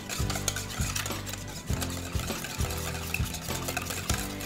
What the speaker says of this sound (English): we're gonna whisk that together with the eggs.